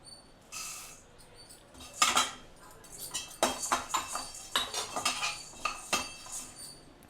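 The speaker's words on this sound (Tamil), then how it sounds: "தனியாவும் அதே மாதிரி நல்லா லைட்டாக ப்ரௌன் கலர் வர மாதிரி வறுத்துக்கலாம்." Coriander seeds dry-roasted in a pan for puli saadham podi, stirred with a metal spoon in a run of close clinking scrapes and rattles, irregular and growing busier toward the end.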